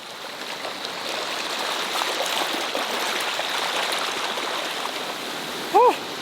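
A cold mountain stream in Afghanistan rushes steadily and evenly, close by, with a brief voiced exclamation rising over the water near the end.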